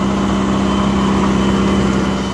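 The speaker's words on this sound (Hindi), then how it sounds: "और बिल्कुल मज़े में चल रहा है ट्रैक्टर" A tractor idles at low rpm with both levers down, running smoothly. A steady, loud, close engine drone with a strong low hum holds unchanged throughout, with no talk.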